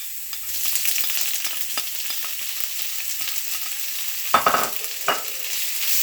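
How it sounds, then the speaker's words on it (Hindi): Garlic and ginger paste sizzling in hot oil at medium heat, a steady close frying hiss throughout, with a couple of sharper stirring scrapes near the end. "अब मैं इसमें लहसुन और अदरक की जो पेस्ट मैंने तैयार की थी वो ऐड कर दूँगा"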